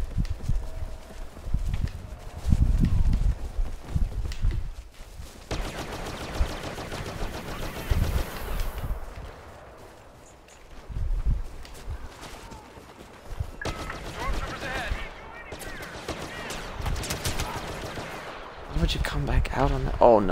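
Blaster gunfire in a Star Wars video game, including a DL-44 blaster pistol, comes as dense rapid bursts and repeated shots mixed with game noise and occasional talking.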